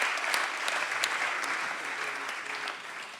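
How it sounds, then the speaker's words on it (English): Audience at a climate action week event in London applauds guest speakers, a full, close burst of clapping that stays steady and slowly thins toward the end. "If we could all give us a round of applause to our guest speakers."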